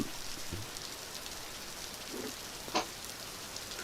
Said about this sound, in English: Yeah, it's just rain.